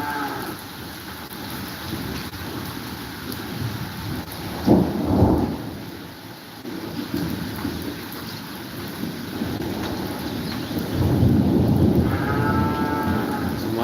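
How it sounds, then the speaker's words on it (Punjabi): Heavy rain pours steadily with hail while low thunder rumbles roll in a couple of times, and a cow moos briefly near the end, in Khamano, Punjab. "ਲਗਾਤਾਰ ਬਿਜਲੀ ਗੜਕ ਰਹੀ ਹੈ ਮੀਂਹ ਤੇਜ਼ ਹੋ ਰਿਹਾ ਹੈ"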